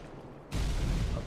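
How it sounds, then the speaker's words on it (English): A bomb explosion in Halo 2 during modding work, a sudden loud, deep boom that erupts after a quiet moment and rumbles on without fading, with no talk. "let's rework the timing on the explosions for the bombs"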